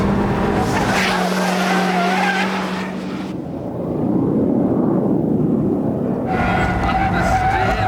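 A Honda Civic Type R on a tarmac circuit corners hard, and loud tire squeals ride over the engine roar. The squeal breaks off into a quieter rumble in the middle, then the squealing and engine noise return.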